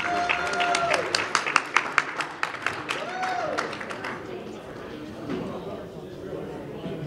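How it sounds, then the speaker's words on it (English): Applause from the audience at a veterans' breakfast hosted by a council on aging, greeting a singer. It is a fairly sparse, modest clapping that rises and fades over several seconds, with sustained music tones and voices running underneath. "Let's give him a round of applause"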